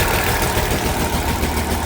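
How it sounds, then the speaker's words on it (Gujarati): An Eicher tractor engine runs steadily, driving a Gayatri gearbox pump straight off the PTO to feed a 2000-litre HDPE tanker; a loud, continuous close-up rumble with no talk. "આઈસર ટ્રેક્ટર છે. ડાયરેક્ટ પીટીઓથી ગેરબોક્સ વાળો પંપ છે."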